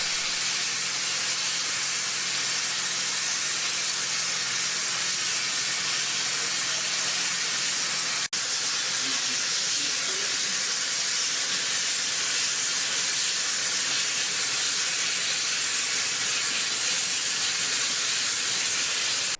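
Polish steam locomotive Pt47-65 venting steam inside a winter depot at Wolsztyn, a loud, close, continuous hiss that runs unbroken throughout, with no voices.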